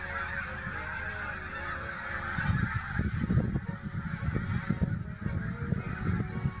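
A large flock of snow geese, including dark blue-morph birds, honks continuously in a dense overlapping chorus, with many calls layered at mid distance and a steady loud wash of goose voices throughout.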